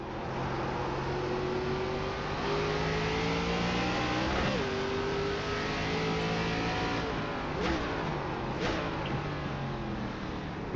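ARCA race car engines in iRacing at Lime Rock drone steadily and loudly, pitch sliding with shifts and throttle, with a few sharp transient clicks near the end.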